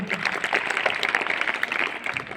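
A classroom of schoolchildren claps for a classmate who answered a quiz question correctly, a dense, steady patter of many small hands close by, filling the short stretch without pause.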